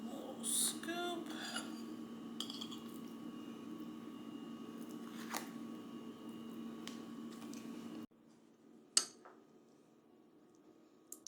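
A spoon scoops a small taste from the corner of a sweet potato soufflé, giving a soft, close squish with light clinks against the dish over a steady background hum, followed by a quieter tap.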